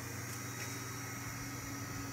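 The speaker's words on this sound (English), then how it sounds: "The dynamotor sounds great." The dynamotor of an all-original ARC-5 receiver runs in a steady, faint whine and hum with a constant low drone throughout, and no one talks over it.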